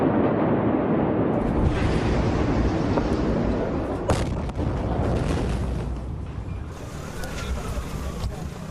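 The massive explosion at Beirut port, caught as a heavy sustained roar and rumble with wind buffeting on the microphone, slowly easing off, with faint distant voices beneath it.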